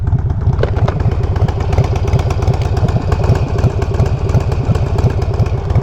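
A motorcycle engine runs steadily nearby with a rough, rapid rhythmic clatter that sounds off, continuous and loud with no talking.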